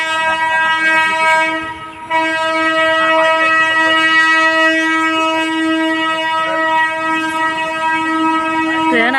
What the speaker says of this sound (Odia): ପୁଣି ଚାଲିଲା ଟ୍ରେନ୍।